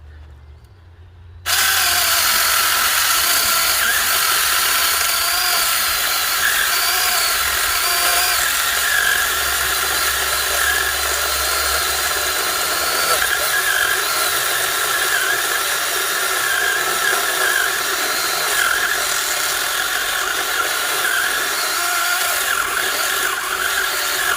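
An Alloyman 20V battery mini chainsaw with a 6-inch bar cuts through wood. After a brief quiet start, a loud, close, steady motor buzz runs without a break to the end, with no talk.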